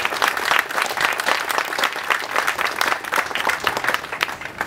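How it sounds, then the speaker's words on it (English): A crowd applauds at an outdoor community groundbreaking celebration for a light rail extension, with lively, dense clapping from many hands holding steady throughout. "So let's give them a round of applause."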